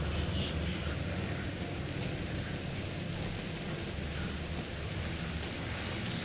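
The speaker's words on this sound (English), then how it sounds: "Rainy forest?" Steady rain pours through a forest in the video game Alan Wake 2, a dense continuous hiss with low rumbling beneath, loud and unbroken for the whole stretch with no talk.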